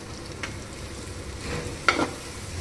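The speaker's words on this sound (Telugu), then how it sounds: "ఆలుగడ్డలు వేసి కలిపి అన్నం వేద్దాం" Potatoes and rice are stirred in a hot, sizzling pan, with soft scraping strokes and a louder clatter of the spoon near the end over a steady low fry.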